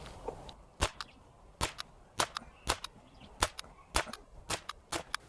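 Roughly a dozen sharp, snappy reports from a Gamo C-15 Bone Collector CO2 pistol fired freehand from a standing position, spaced about half a second apart in an uneven rhythm, close and crisp against a quiet background.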